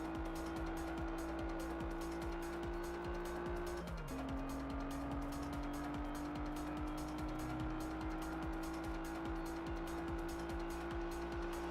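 A racing car's engine holds a steady, loud drone with a pitch shift partway through, under a continuous tire squeal during a race against a Lamborghini Gallardo in the Test Drive Unlimited video game.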